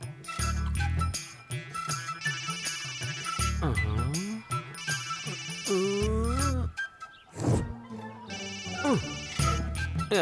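A mobile phone ringtone plays a looping melodic tune in a comedy film scene, its phrases repeating loudly and insistently for several seconds with a few brief breaks.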